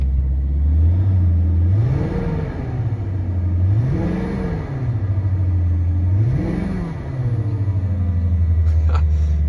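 A car engine idles with a low hum on a winter cold start, revving three times in smooth rising and falling swells, with a faint whine riding over it.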